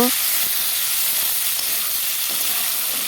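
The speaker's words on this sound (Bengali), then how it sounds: "তেলে পেঁয়াজ টমেটো দিয়ে দিয়েছি একসাথে ভেজে নেব" Onion and tomato frying together in hot oil with bay leaf, a loud, steady, close-up sizzle and hiss that holds evenly throughout.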